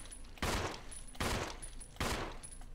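Three loud, evenly spaced gunshots fired at leeches in Resident Evil, each a heavy blast followed by a short decaying tail.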